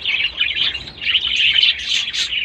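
Pigeon chicks make continuous high, thin chirping and peeping calls close by, with no talking.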